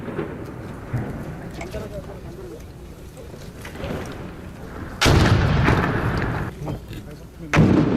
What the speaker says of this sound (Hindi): इस समय लगातार फायरिंग की जा रही है और ये फाइनल असॉल्ट है।